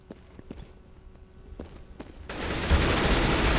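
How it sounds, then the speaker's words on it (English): Shotgun blasts in a video game: a few sharp thumps early on, then a dense, loud burst of gunfire noise that fills the final second, with no talk. "That was a shotgun, that was not a machine gun."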